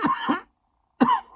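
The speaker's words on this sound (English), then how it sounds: "I got a bad cough" A person with a bad cough clears their throat and coughs in two short bursts, close and fairly loud, separated by a brief silence.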